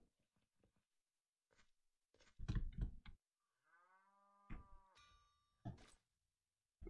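A cow in modded Minecraft gives one drawn-out, wavering moo in the middle, surrounded by sharp clunks and taps of blocks and items being placed.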